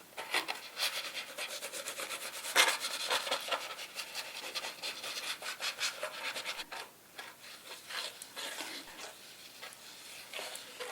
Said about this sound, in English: I need to whisk that until combined.